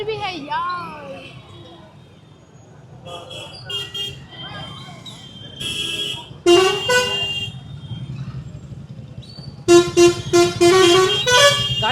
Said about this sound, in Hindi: यहाँ पर हमारा टाउन में कितना ट्रैफिक है भाई, बहुत ज़्यादा ट्रैफिक